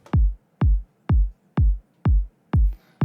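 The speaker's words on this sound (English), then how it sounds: "Super punchy. It's a really great sounding kick." A short, tight, punchy kick drum sample hits six times at a steady even pulse, each thump deep, loud and quickly choked, with nothing else around it.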